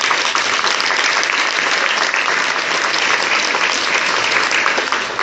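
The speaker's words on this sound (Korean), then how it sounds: "같이 환영의 박수를 해주시면 감사하겠습니다" A church congregation at a daytime Mass claps in welcome for newcomers, a loud, sustained and evenly dense round of applause filling the room, with no speech heard over it.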